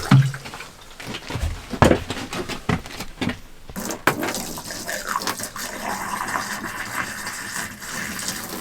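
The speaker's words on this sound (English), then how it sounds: "I'm going to take my jug, dump about a cup down, and strain." Antifreeze is poured from a jug down an RV drain during winterizing, a close gushing, gurgling liquid pour with irregular splashes that settles into a steady flow.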